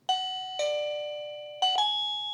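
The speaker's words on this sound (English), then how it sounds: "Now let's link the chime." An ANNKE wireless doorbell chime rings while being synced, sounding three bright, resonant bell tones in turn, each ringing on and slowly fading, close and clear with no voices.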